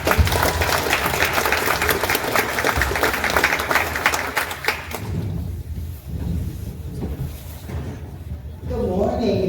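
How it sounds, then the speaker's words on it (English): Applause from an audience at a chamber legislative coffee morning, broad clapping for the first five seconds before it fades, followed by a speaking voice. "Let's give a warm round of applause."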